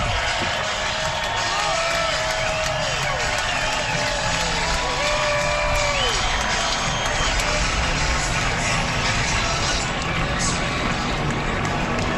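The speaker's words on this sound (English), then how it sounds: "a big roar from the crowd as they come past" Big crowd roaring at the Daytona 500 as the cars come past: a steady, loud wash of cheering and applause throughout, with engine tones sweeping up and down and a voice talking underneath.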